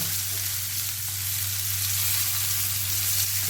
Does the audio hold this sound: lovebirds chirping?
no